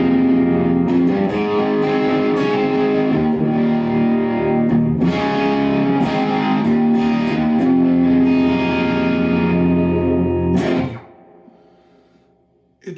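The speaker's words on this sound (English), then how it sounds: "So we've got the Bogner XTC blue pedal. Add a bit of drive to that." An electric guitar plays overdriven chords through a Fender amp with a Bogner XTC Blue drive pedal. The loud, sustained distorted tone is heard alone and ends in a decaying ring and a brief final click.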